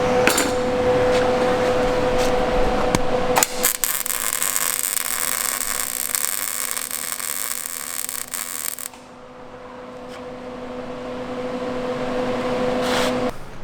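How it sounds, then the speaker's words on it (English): Welding on a DIY utility flatbed trailer frame's cross braces: a steady broadband arc crackle runs for about five seconds in the middle, with a constant hum before and after and a few sharp clanks at the start and end. "I just gotta weld this side of our cross braces"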